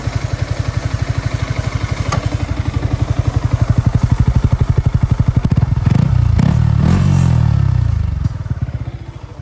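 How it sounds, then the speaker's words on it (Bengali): A rebuilt Yamaha R15 V3 motorcycle engine runs loud and close with a fast, steady firing pulse, briefly revving higher with some clattering and thumps midway before settling back. "আমরা যদি একটু কথা বলি ব্যাকগ্রাউন্ড থেকে একটু শুনবো, বাইকের সাউন্ড কেমন ছিল"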